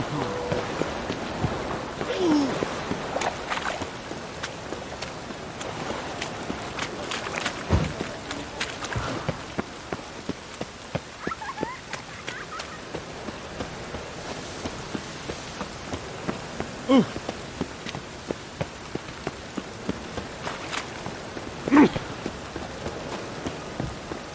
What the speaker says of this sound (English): It only ever rains.